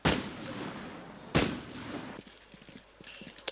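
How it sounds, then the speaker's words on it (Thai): Gunfire in the shooter game Arena Breakout Infinite: two heavy, booming shots with long echoing tails about a second and a half apart, then softer scattered clicks and a final sharp crack. "มันยิงอะไรกันเสียงปืนโคตรดังเลย"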